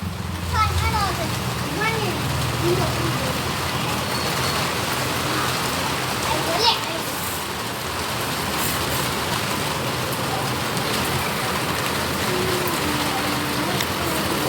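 Steady rain pours down outside a home, a dense continuous patter holding evenly throughout, with faint traffic noise and occasional voices in the background.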